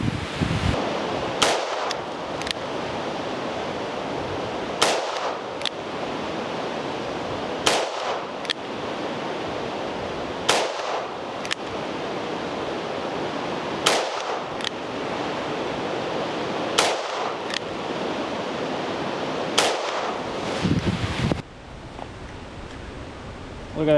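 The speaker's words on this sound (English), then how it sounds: ".357 Magnum, 110 grain," A Ruger GP100 seven-shot revolver fires .357 Magnum 110-grain rounds in single action. Sharp, loud shots crack out one at a time at a slow, even pace, about seven in all, each followed by a short decay.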